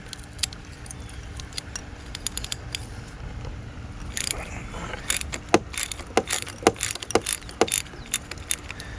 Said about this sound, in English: we're going to take a 15/16 wrench in there, go put it on there.